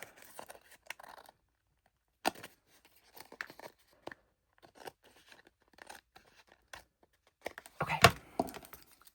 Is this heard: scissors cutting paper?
yes